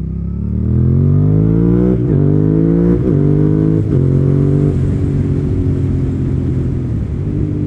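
Car engine in the Mad Max video game revving loudly through several rising throttle pulls with gear-shift dips, then settling into a steady drone, with no talk over it.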